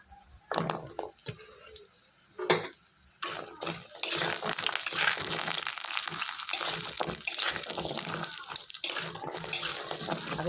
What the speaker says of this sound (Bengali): আগে ভেজে নিচ্ছি তেলের উপরে।